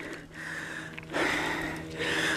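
Heavy, ragged breathing after a dirt bike ride, several loud close gasping inhales and exhales in an uneven rhythm, heard alone without talk.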